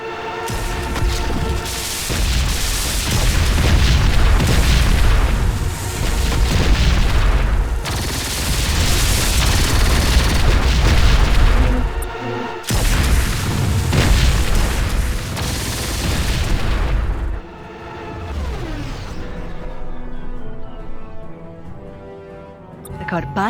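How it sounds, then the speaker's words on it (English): Mortars and other weapons fire in the sci-fi tower defence game Siege of Centauri, a dense, loud run of booms and bursts with a voice speaking over the barrage, easing into quieter, sparser firing near the end. "Now here the mortars can be helpful."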